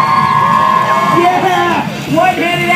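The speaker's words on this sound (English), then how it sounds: "Here comes Ryan Nyquist, Miami. Let him hear you." Spectators at a BMX Big Air contest in Miami cheer and whoop loudly and continuously while an announcer talks over the crowd.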